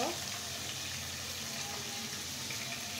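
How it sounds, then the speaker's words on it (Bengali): Fish frying in a pan of oil, heard as a steady, moderately quiet sizzle and hiss that runs unbroken throughout. "আমি এখন খুব সুন্দর করে লাল লাল করে মাছগুলা ফ্রাই করে নেব।"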